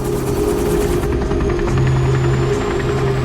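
A helicopter flies toward an offshore platform, its loud, steady rotor drone and engine hum filling the cabin with a continuous pulsing roar.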